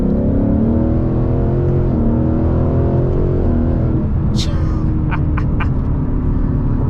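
A 2019 Ford Mustang GT with a 10-speed transmission accelerates hard, its loud, steady engine roar rising in pitch and briefly dropping at a gearshift, close and continuous, with a couple of faint high squeaks near the end.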